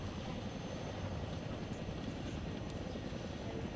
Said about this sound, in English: hold where you are until the second Chinook fucks off